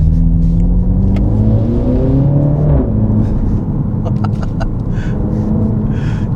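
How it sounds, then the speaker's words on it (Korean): A MINI Clubman JCW engine revs loudly and shifts gears on a winding road, its pitch rising and dropping, with sharp crackling exhaust pops scattered through the second half. "이 변속에 들어갔을 때 팝콘 터지는 이 소리 자체가"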